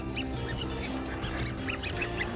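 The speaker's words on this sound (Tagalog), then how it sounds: "Ah, mga pato dito pa lang nila." Ducks at a park pond in Kawagoe, Japan, give repeated short quacks at an uneven pace over a steady low background hum, moderately close.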